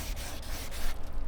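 A Subaru Forester headlight's clear coat is wet-sanded by hand with short, rhythmic scratchy strokes, close and steady, no voices.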